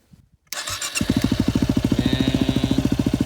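A Yamaha WR250R motorcycle engine cranks after a brief silence, catches and settles into a steady, rapidly pulsing idle close by, with a faint whine above the loud rumble.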